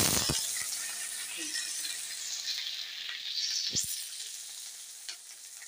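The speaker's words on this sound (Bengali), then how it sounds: "সজনেটা ভাজা হবে।" Moringa drumstick pieces fry steadily in a hot pan for a Bengali bitter gourd shukto, a continuous loud sizzle with a few sharp clicks and scrapes of a spatula against the pan.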